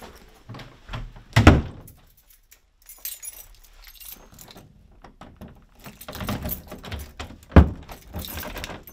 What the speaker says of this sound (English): Whoops, almost forgot to lock the door.